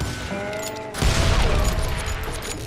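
Gunfire in the western shooter Call of Juarez: Gunslinger, a quieter stretch with faint tones, then a loud burst of shots and booming impacts at about one second that keeps rumbling afterward.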